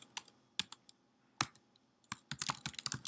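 Typing on a computer keyboard, with a few separate key clicks followed by a quicker burst of keystrokes near the microphone; no speech.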